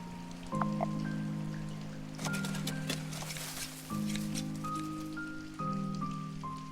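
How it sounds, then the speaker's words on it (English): Steady patter of rain in the video game Block'Hood, under a layered synth music bed with sustained tones; no talking. "Oh, good, it's raining."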